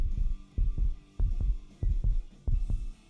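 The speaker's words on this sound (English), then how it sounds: "Heartbeat sensor?" A heartbeat picked up by a microphone taped to a chest: a steady run of soft, deep paired thumps repeating at a regular rhythm over a low hum, with no talking.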